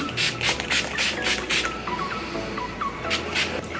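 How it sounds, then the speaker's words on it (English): Several short bursts of spray hiss from an aerosol can of Wild Cucumber Photo Focus makeup primer, repeated in quick succession, with faint chirping in the background. "So yeah, just spray a little bit on."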